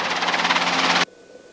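Small training aircraft engine on takeoff, a loud buzzing, pulsing drone heard close up that cuts off abruptly after about a second.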